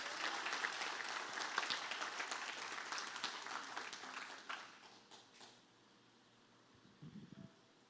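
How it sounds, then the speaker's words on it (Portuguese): A church congregation applauds for Jesus, a dense wash of clapping that starts loud, fades out over several seconds, and gives way to quiet with a few faint murmurs. "Você pode dar uma salva de palmas para Jesus?"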